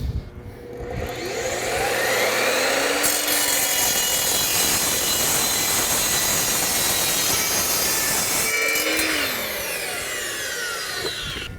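A power saw cuts through square steel tubing with a loud, harsh screeching whine that holds steady for several seconds, then a second cut begins with the same grinding squeal, with no talk.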